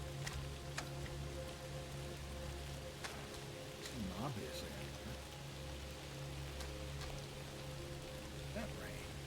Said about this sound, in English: That like big ass drops of rain.